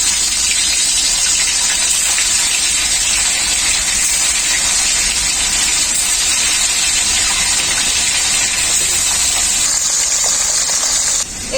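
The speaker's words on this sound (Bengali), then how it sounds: "তেলটাও খুব ভালোভাবে গরম হয়ে গেছে মাছগুলো দিয়ে দেবো তেলের মধ্যে" River fish dropped into hot oil give a steady, loud, broad frying hiss that runs unbroken at close range.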